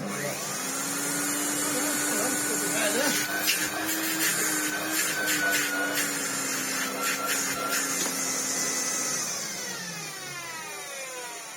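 A Hoover Turbopower 2 Autosense vacuum cleaner whose motor needs a rebuild runs with a loud whine and rattling bursts, then winds down near the end; a voice speaks briefly over it.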